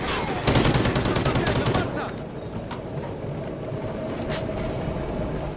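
Heavy gunfire crackles in a Call of Duty: Ghosts battle, then gives way to a rumbling moving train with a steady rolling drone and sharp metallic knocks, while voices talk over it.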